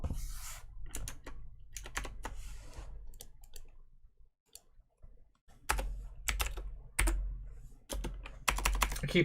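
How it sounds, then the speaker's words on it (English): Bursts of typing on a computer keyboard, quick clattering key clicks arriving in uneven clusters separated by brief pauses, close and fairly quiet with no voices. "I keep typing in the numbers"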